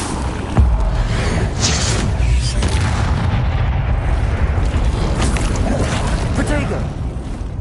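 Incendio fire spell being cast in a Harry Potter video game: a loud whooshing burst with a booming low rumble, then sustained crackling fire roar, with voices under the noise.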